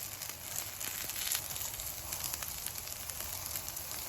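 Eggplant cakes pan-frying in a shallow layer of oil, a soft, steady close sizzle with fine crackles and no pauses, with no one speaking.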